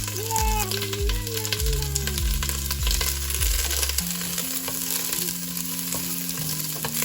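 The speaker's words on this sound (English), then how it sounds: "Saute this for about 2 minutes. But keep mixing because you don't want it to get burned." Garlic, ginger and peppercorns sautéing in a pan, a constant sizzle with occasional stirring scrapes, partly under background music.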